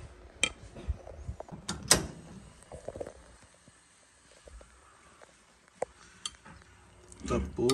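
A utensil stirs durian jam in a pot over the heat, giving close, irregular clanks and scrapes against the metal with quiet gaps between them.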